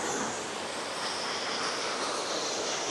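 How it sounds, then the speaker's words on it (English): Water pours continuously over Westfield Falls waterfall, a dense, steady broadband rush filling the whole moment at close range with no breaks. "You get the sound of the water."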